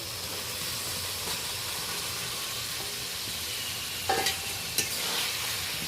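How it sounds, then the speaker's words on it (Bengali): Fried potatoes and fried eggs stir-fried in a spiced masala for egg kalia, a steady close sizzle with a couple of brief scraping stirs near the end. "ভেজে রাখা আলু আর ভেজে রাখা ডিমটা অ্যাড করে দেবো মশলার সাথে হালকাভাবে কষিয়ে নেবো"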